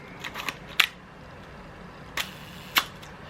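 Canon P rangefinder film camera shutter fired at close range, giving a few soft mechanical clicks followed by two sharp, distinct shutter snaps spaced apart against a quiet room.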